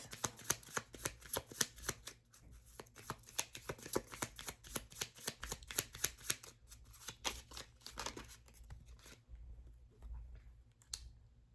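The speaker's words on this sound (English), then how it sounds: "Now I'm gonna pull from the Enchanted-Affirmation deck to see what other messages." Cards from an affirmation deck shuffled by hand, a quick run of crisp riffling clicks and flutters that thin out and stop, close and fairly quiet, with no talk.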